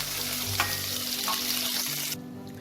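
Chicken pieces frying in oil for butter chicken, a steady dense sizzle close up with faint stirring, the sizzle dropping off sharply near the end.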